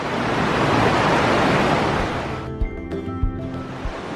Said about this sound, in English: the water is just shooting out of little holes in the mountain